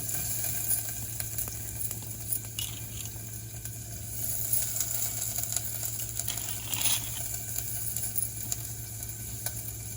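Curry leaves, chillies and onion frying in a pan for a soya chunk curry, a steady close sizzle with faint crackles and occasional stirring scrapes, no voices.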